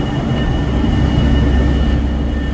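Trains idle at the platforms of Manchester Piccadilly station, with Northern and TransPennine Express units giving a loud, steady low rumble and a faint high tonal whine on a foggy winter day.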